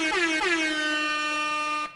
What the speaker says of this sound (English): let's give an air horn for it.